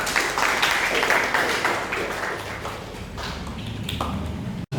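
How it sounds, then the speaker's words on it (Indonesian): A small group of students in a classroom claps for several seconds, the applause fading slightly toward the end before cutting off abruptly. "silakan berikan tepuk tangan"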